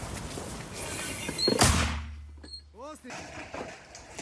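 A single loud, sharp blast of a mortar firing nearby, followed by a brief ringing tail and a shouted voice.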